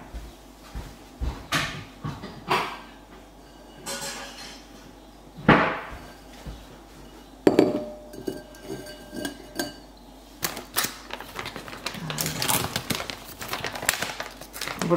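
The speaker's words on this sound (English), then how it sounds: "So I'll just get a bowl." Dishes clink and knock while a bowl is taken from a kitchen cupboard. Several sharp, close impacts of crockery and cupboard sounds come at irregular intervals, with quieter rattling in between.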